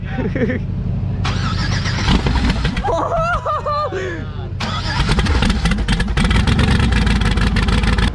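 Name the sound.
car engine starting and revving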